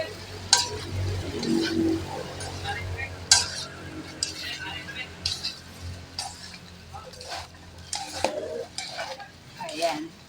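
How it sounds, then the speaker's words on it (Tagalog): Baguio pechay (Chinese cabbage) being stir-fried in a pan, with soft sizzling under stirring and clinks of utensil against pan, while a voice talks over the cooking. "yung ating gulay ay atin lamang i-stir fry"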